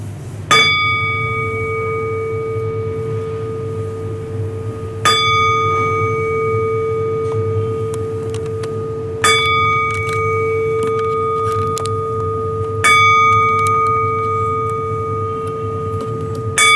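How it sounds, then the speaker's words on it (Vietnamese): A bell rings four times during a Buddhist repentance ritual, each strike clear and resonant with a long sustained ring that decays before the next, set against a steady low background hum. "Nghe một tiếng chuông thì lại nhá."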